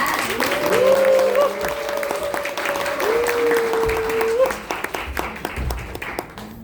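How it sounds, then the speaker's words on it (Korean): An audience at an indoor talk event in Bundang breaks into loud, sustained applause that thins and fades toward the end, with a brief whistle-like tone over the clapping. "큰 박수로 모시겠습니다"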